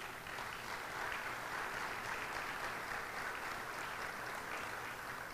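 Steady, dense applause from a large audience at the closing ceremony of an orthopedics and traumatology congress, sustained at an even level with no breaks or talking throughout.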